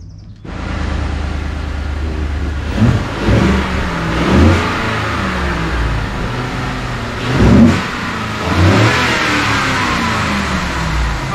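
A 2015-2017 Ford F150 V8 fitted with a K&N cold air intake idles loudly and close, then gets several short rising revs in the middle before settling back to a steady rumble.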